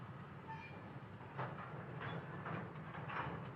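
Model trains running, an NS Heritage and a KCS Ace locomotive, give a steady close rumble with light rolling clatter that swells slightly partway through.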